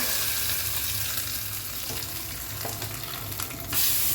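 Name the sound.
tempering frying in a pan for pudina chutney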